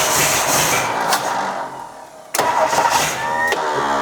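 A 1963 Ford Thunderbird engine, sitting unused for over 35 years and with no fuel pump installed, cranks with a loud starter whir, pauses briefly, then cranks again with uneven churning.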